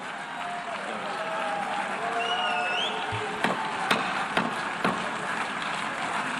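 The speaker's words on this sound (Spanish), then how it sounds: "Abucheos y aplausos" A large crowd in the UN General Assembly hall boos and applauds, a dense wash of clapping and jeering voices, with a few louder claps standing out toward the end.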